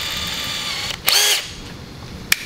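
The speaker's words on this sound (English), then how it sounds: "take a countersink" Countersink bit briefly cutting into a Teksid aluminum engine block, a short close whirring burst of about a third of a second amid quiet room tone, followed by a sharp click.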